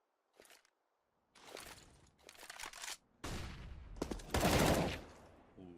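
Rapid bursts of gunfire sprayed through walls in the game CS:GO, loud clustered volleys separated by brief silences, several distinct strings of shots across a few seconds.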